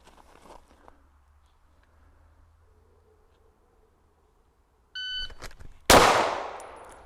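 A timer beeps, then a single loud gunshot cracks close by and rings off, after a quiet stretch.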